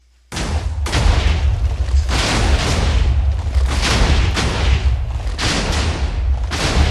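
A Minecraft redstone-triggered TNT blast sounds as a loud, continuous barrage of overlapping booming explosions that starts abruptly and rumbles on for several seconds with repeated sharp detonations.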